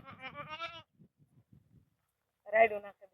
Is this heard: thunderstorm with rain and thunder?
no